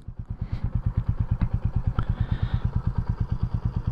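A Royal Enfield Meteor 350 single-cylinder engine thumps steadily and evenly during a test ride. The low, loud exhaust pulse stays close and unbroken throughout.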